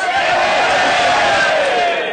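A loud crowd in a pub cheers and roars together, a dense sustained wall of whoops and yells that swells and fades slightly over two seconds.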